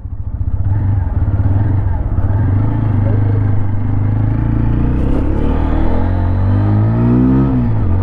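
A 2024 TVS Apache RTR 160 4V motorcycle pulls away in first gear, its engine revving up in a loud, rising buzzing drone heard close from the rider's position, with a short gear-change dip near the end.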